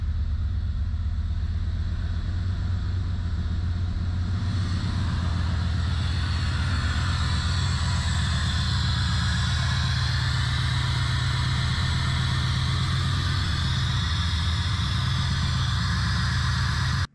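A 1987 Chevrolet Camaro IROC Z sits idling, its engine running as a steady, loud low rumble that holds unchanged for the whole stretch, with no voices over it.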